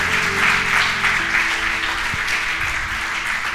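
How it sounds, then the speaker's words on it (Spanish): Worshippers at a Spanish-language Sunday church service break into applause, a broad sustained patter of clapping over a low sustained hum from instruments or a sound system. "dale un aplauso"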